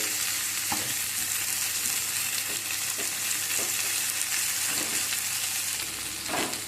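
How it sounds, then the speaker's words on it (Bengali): Eggplant, onion and tomato sizzle steadily in a hot pan while a utensil stirs them, bringing a loud continuous fry broken by several sharp scraping knocks. "ঢাকা খুলে আবারও সবজি আমরা নাড়াচাড়া করে নেব"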